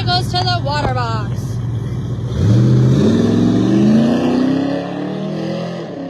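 Drag-racing motorcycles rev at the water box of a Knoxville dragway, a loud nearby engine climbing in pitch and holding a strong drone after a moment of talk over a public-address system.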